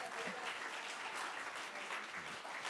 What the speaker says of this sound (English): And we applaud you. We applaud. Can we applaud, please?